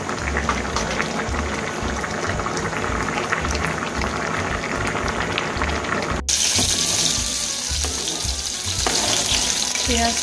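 Mixed vegetables being tempered in hot oil for a labra, with a steady close sizzle and frying crackle running throughout, joined partway by a sharper hiss and clatter as more goes into the pan.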